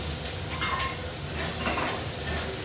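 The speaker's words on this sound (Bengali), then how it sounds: "এখন এটা ভাজা ভাজা হয়ে যাবে।" Eggplant frying with onions in oil in a pan, giving a close steady hiss of sizzling with light scraping as the mix is stirred, heard without any talk.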